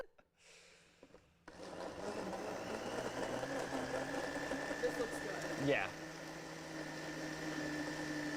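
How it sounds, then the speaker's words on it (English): A blender whirs steadily after a short pause, its motor drone filling the space while a voice briefly speaks over it. "I'm about to make a lot of noise with the blender"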